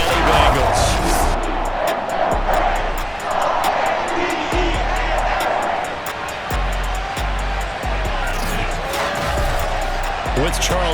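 Stadium crowd noise from a Baltimore Ravens versus Cincinnati Bengals football game in Madden NFL 22, a steady loud roar with rising cheers running continuously beneath play-by-play commentary.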